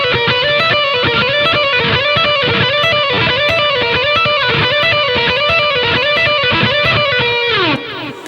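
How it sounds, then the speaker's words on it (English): An electric guitar plays a fast, repeating rock lick through heavy distortion, loud and dense with a steady rhythmic pulse, then ends on a downward slide. "now I'm going to show you another way that you can use this lick as well"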